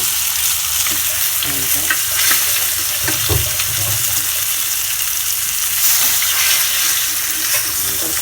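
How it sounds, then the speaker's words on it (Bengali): Fish pieces fry in hot oil, a loud, steady sizzle and crackle that continues throughout, heard close up without any talk. "আমার মাছ ভাজা কমপ্লিট হয়ে গেছে এখন আমি মাছগুলোকে তুলে নিচ্ছি"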